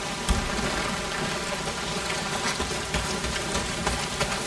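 Steady heavy rain pours down in the video game Days Gone, a dense continuous hiss of drops on surfaces filling the whole scene at an even, loud level with no voices.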